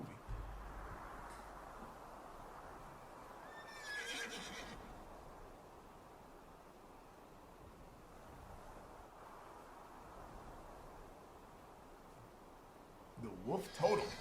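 Horse neighs rise in a song: a whinny near the start and another shrill one at the end, both heard faintly over a low rumbling backing.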